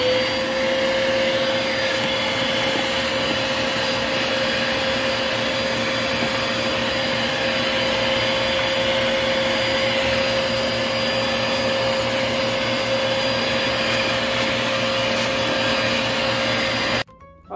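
A vacuum cleaner runs steadily while cleaning out the inside of a car, a loud constant whine and airy roar close by that cuts off sharply at the end.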